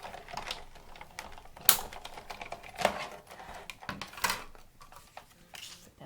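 A die cutting machine presses card through a Framelits die sandwiched between standard cutting pads and a magnetic platform while making a Christmas card, heard as faint, irregular clicks and crunching bursts, with a few sharper snaps.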